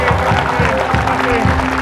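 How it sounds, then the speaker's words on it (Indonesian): Studio audience clapping on an Indonesian talk show, dense steady applause with a strong low hum and some tonal background running under it, fairly loud and continuous. "Kita tepuk tangan lagi dong."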